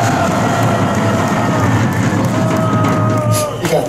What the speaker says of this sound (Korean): 뜨거운 박수로 격려 부탁드리겠습니다